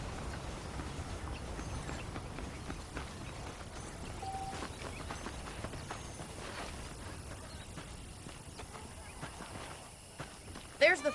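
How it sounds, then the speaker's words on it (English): Horse hooves clip-clop along at a walking pace in the video game Red Dead Redemption while a voice talks over them, ending in a few sharper knocks. "The horses are saddled up over here."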